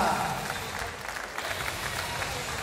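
Audience applause welcoming a Thai boxer at a Thai boxing event in Banská Bystrica, a steady wash of clapping from a crowd lasting throughout.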